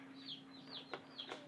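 Small chickens, among five breeds including Americanas, give faint high peeps, a few short rising chirps at moderate distance over a steady low hum.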